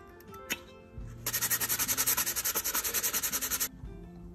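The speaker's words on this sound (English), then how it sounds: "Again, it's too big, I gotta sand it down." Small hammer head being sanded down during an old tool restoration: a steady run of rapid, rhythmic rasping strokes, close and fairly loud, lasting a few seconds with a low hum beneath.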